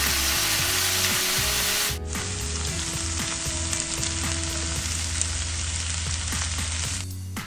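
Jarred jalapeno peppers and other ingredients sizzle in a hot cast iron pan, a continuous frying hiss with scattered crackles and light clinks, no talking.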